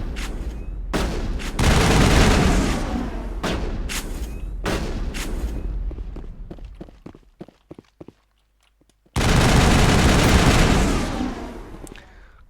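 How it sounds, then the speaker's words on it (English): Dense video-game gunfire from Mass Effect rattles in loud, rapid bursts, broken by a short lull of scattered single shots before another heavy barrage erupts. "Stop shooting me!"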